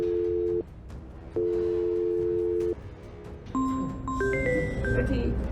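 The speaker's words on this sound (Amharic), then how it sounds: "ስልክሽ የጠራ ነው።" Electronic telephone tones: two long ringing beeps, then a quick rising melody of synthetic notes, fairly quiet over background hiss.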